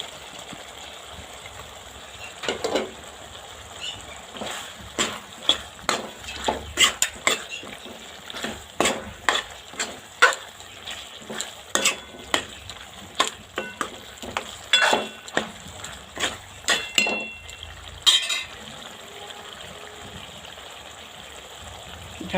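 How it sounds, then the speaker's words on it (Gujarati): Paneer stirred into a thick gravy in a pan for dhaba-style paneer sabzi, with repeated close scraping and clinking strokes of a spoon against the pan over a soft sizzle, steady and rhythmic throughout. "ગ્રેવી થઈ ગઈ છે, આપણે પનીર નાખી દઈશું."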